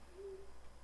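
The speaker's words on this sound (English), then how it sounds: "Ooh, we got an owl sound." An owl in the block-building game Mythruna gives one brief, soft hoot over a faint steady background hum.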